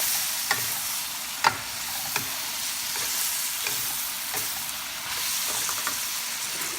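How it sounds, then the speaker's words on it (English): Pansit bihon with fried fish balls being stirred in a frying pan, a steady hiss of sizzling under the scrape and clack of the utensil at irregular intervals, with no voices. "Give it a good mix."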